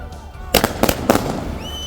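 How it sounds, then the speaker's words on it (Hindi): Firecrackers set off by relatives celebrating in Baramulla, Kashmir, burst in a rapid string of sharp, loud cracks close by, followed by ringing echo and a faint rising whistle. "उनके परिजनों और रिश्तेदारों ने खूब पटाखे छोड़े"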